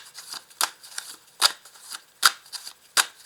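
Tarot cards being shuffled and laid out on a table: a series of crisp, quiet flicks and snaps at irregular intervals, fairly close, with no talking.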